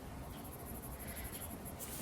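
Soft, continuous scratching of a drawing tool across paper as a shirt fold is sketched, faint and close, with a brief brighter stroke near the end.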